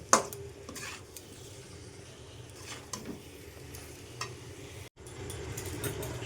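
Chicken stomach and spices being stirred together in a pan, with a soft continuous sizzle and scraping clicks of a utensil against the pan, fairly quiet throughout.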